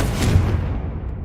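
A Confringo blasting spell from the game Hogwarts Legacy lands as a single booming explosion, loud and close, with a rumbling low burst that fades out quickly.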